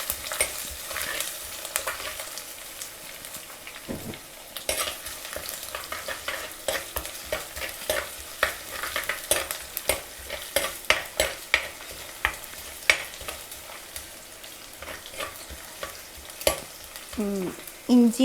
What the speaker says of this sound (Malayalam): കറിവേപ്പിലയും ഇഞ്ചിയും വെളുത്തുള്ളിയും നന്നായിട്ടൊന്ന് കുറച്ചൊന്ന് വഴറ്റി വരുമ്പോഴത്തേക്കും നമുക്കിനി സവാള ഇട്ട് കൊടുക്കാം